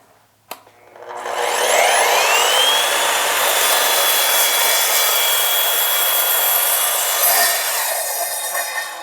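An Evolution multi-material sliding miter saw spins up after a click and slices through white oak hardwood, a loud, steady whining cut that runs for several seconds before winding down.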